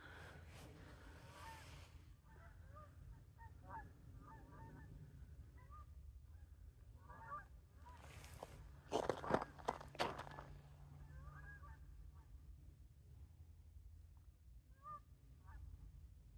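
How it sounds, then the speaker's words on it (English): Geese honk faintly far off in repeated short bursts across open water during a solo overnight outing at Pinchot, with a louder rustle of nearby movement midway. "there's some geese"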